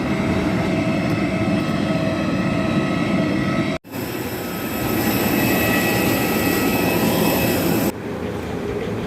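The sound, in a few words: Air India aircraft at the airport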